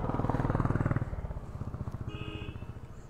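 A Royal Enfield Classic 350 single-cylinder motorcycle engine thumps at a steady, even rhythm, loud and close, then eases to a softer idle-like putter.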